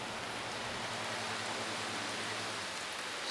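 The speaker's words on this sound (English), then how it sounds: "It's kind of good that it's raining too" Steady rain falls outside a house, a dense, even hiss of drops on surfaces with no breaks and no voices, lasting the whole stretch at moderate level.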